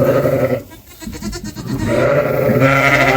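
Newborn twin lambs and ewes bleat on a sheep farm in lambing season, several loud, close, overlapping wavering calls that swell and fade across the stretch.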